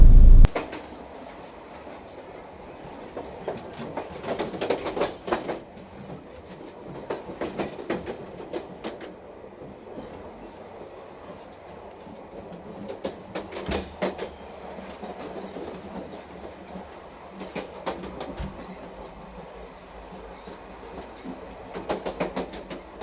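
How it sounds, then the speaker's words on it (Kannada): A train rolls past a railway level crossing, a long steady rumble with repeated clickety-clack wheel beats and bursts of louder clatter, heard close and alone without talk. "ಇವಾಗ ಟ್ರೈನ್ ಬರ್ತಾ ಇದೆ, ವೇಟ್ ಮಾಡ್ತಾ ಇದ್ದೀವಿ."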